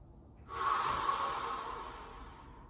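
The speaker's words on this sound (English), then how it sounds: "we can do one more big deep breath" One long, deep breath drawn in through the nose during a core-strengthening exercise session, close and breathy, starting abruptly and trailing off over about two seconds with no talking.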